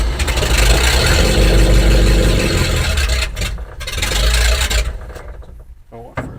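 A 7600 engine with freshly reworked cylinder heads runs loud and rough close by for about three seconds, dips, surges again, then drops away to near quiet with a faint voice at the end.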